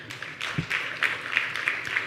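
Conference audience at a women's leadership event clapping, a soft, fairly sparse patter of applause heard from a distance for a couple of seconds.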